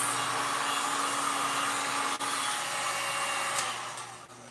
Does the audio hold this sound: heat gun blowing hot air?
yes